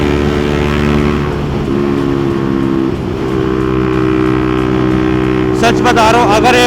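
A Bajaj Pulsar NS400Z motorcycle fitted with an aftermarket exhaust, its engine droning loudly and steadily at speed with a slight dip and rise in pitch, close by, with someone talking over it.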